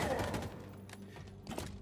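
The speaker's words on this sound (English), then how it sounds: "Who's shooting me with a goddamn shotgun?" Shotgun fire in the Halo Infinite video game: a heavy booming blast at the start, then muffled thuds and a second sharp report, set among game background noise.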